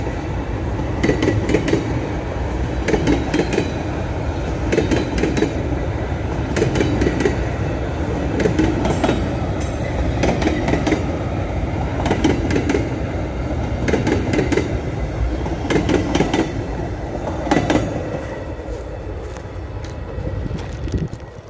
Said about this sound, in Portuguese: Lá se vai o trem na escuridão da noite